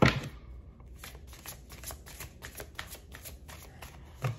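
Tarot cards are shuffled repeatedly, a series of quick riffling bursts and soft slaps at a steady rhythm, close and fairly quiet.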